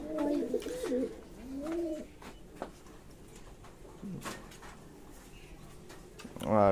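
Owl pigeons coo in soft, low, repeated rolling calls at close range amid faint rustling and clicks in a pigeon loft, with a voice speaking near the end.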